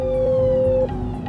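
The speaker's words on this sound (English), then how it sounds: "There's an ambulance responder following us" Ambulance siren heard from a police car on a blocked UK motorway: a loud, steady tone that holds, then drops away and shifts over steady traffic rumble, with no talking.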